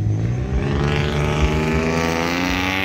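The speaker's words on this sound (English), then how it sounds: "Pardon me for the loud car." A loud car passing close by on a road near former oil well sites in Celina, its engine droning and swelling steadily across the whole stretch with no talk over it.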